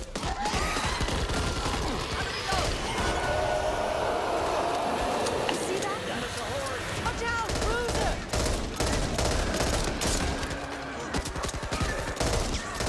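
Machine gun fire rattles in rapid, repeated bursts in the zombie shooter Back 4 Blood, mixed with other gameplay clashes and players' voices over a continuous, busy soundscape.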